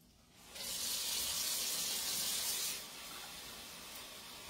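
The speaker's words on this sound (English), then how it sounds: "I'm going to put me some water in here." Water runs from a kitchen tap into a container while a Dutch baby with blueberries is being prepared, a steady, close hiss lasting a couple of seconds before easing to a quieter flow.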